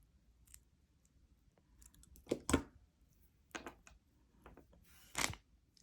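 Wire cutters snip jewelry wire while a beaded bracelet is finished, giving a few sharp, close clicks and snaps spaced out over quiet handling noises.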